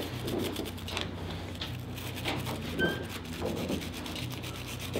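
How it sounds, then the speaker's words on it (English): Gun parts being scrubbed with Frog Lube cleaner, a soft close brushing and rubbing that repeats in short strokes at a low level with no talk. "Apply a nice generous portion. Go ahead and give it a little scrub."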